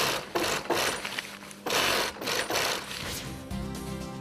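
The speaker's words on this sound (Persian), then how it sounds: "از صدای چرخ خیاطی که نایلونا رو به هم میدو خوشتون اومد؟" A sewing machine stitching nylon panels for a hot air balloon, a loud, close rattling mechanical whir in repeated bursts with short pauses between runs.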